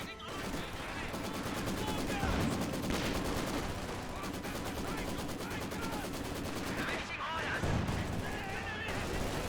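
MG42 machine gun and artillery fire in Company of Heroes: rapid, dense bursts of automatic fire with heavier booms, continuous and loud throughout, under a talking voice.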